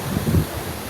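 Strong wind and storm-driven waves from Typhoon Tino batter the Pasil fishport, a brief steady roar of gusts and surf with no voices.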